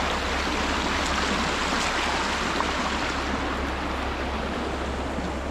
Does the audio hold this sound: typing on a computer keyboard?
no